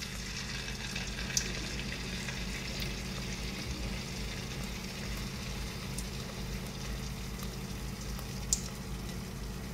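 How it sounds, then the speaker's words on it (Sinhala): Handi kevum batter frying in oil, a steady, even sizzle that fills the whole stretch at moderate volume, broken only by a couple of faint ticks. "ඊට පස්සේ ඕගොල්ලෝ එක ටික වෙලාවක් බැදෙන්න යවන්න."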